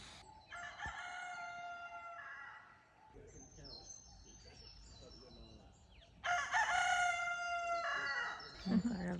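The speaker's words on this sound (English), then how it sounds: "I heard the rooster." A rooster crows twice, long drawn-out calls separated by a quieter stretch, with faint background noise and a brief soft sound near the end.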